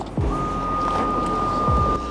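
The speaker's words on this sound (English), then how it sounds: "That pump is priming the hydraulic system for the clutch and the gearbox activator." Steady high-pitched electric whine of the hydraulic pump on an Aston Martin Vanquish S priming the clutch and gearbox actuator, running continuously at close range, with brief low thumps at the start and near the end.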